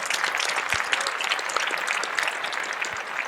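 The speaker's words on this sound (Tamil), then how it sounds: "ஒரு நல்ல கைத்தட்டல் கொடுங்க எல்லாரும்" A large audience at an Erode Hindu Kalvi gathering breaks into continuous, crisp applause, many hands clapping at once, steady and fairly close with no voices over it.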